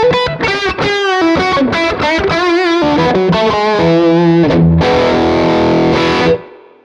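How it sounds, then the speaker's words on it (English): Tube Screamer overdrive pedal driving a dirty Vox AC15 amp, a loud distorted electric guitar phrase of picked notes and chords that ends in a sustained ringing chord fading out. "here's what the Tube Screamer sounds like through that dirty amp"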